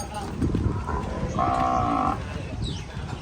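Cattle at an outdoor livestock market for cows and buffalo: one loud, sustained moo lasting under a second rises clearly above a busy murmur of crowd noise and nearby chatter.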